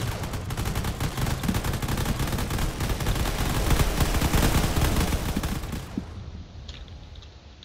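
Distant ship weapons in a space combat video game rattle in a dense, continuous barrage of rapid shots, loud and steady before cutting out into a faint hum.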